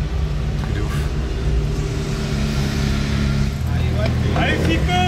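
A Koenigsegg Jesko supercar drives ahead through Monaco streets, its engine a steady rumble heard from a following car, rising in a short revving surge near the end, while someone talks over it.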